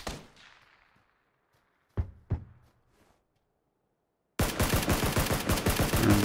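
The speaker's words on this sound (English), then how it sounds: "I see a guy up here on the tree, and so I'm going to try and take a couple shots" Gunfire in the video game PUBG: a few single shots echo early on, then a sustained rapid burst of automatic fire takes over loud and close at the end.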